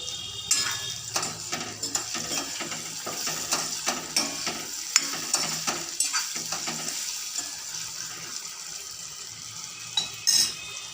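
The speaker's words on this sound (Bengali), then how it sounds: "ভালো করে আলুটা ভেজে নিই," Potatoes frying in a pan, a continuous sizzle broken by frequent rhythmic scrapes and clinks of a spatula turning them, close and fairly loud throughout.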